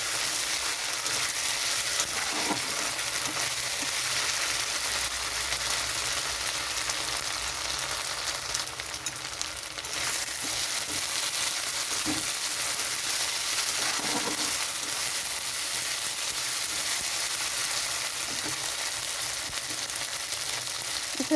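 Chili and onion frying in a pan for spiced dried fish give a steady, close hiss and crackle of oil, with a few faint stirring knocks and no speech.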